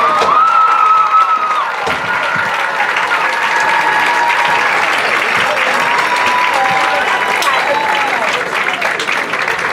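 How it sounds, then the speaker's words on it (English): A loud, dense crowd of spectators applauds and cheers for the homecoming queen at a high school football game, with sustained clapping, whoops and children's shouts continuing throughout. "a big round of applause for our queen, Miss Olivia Overton."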